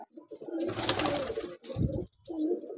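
Pigeons coo close by, two deep, throaty rolling calls separated by a short pause.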